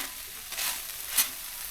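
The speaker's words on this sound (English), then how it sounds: "All right, so the onions and peppers are all sauteed" Onions and peppers sizzle softly in a pan, a faint steady hiss with a couple of brief crackling swells, no voices.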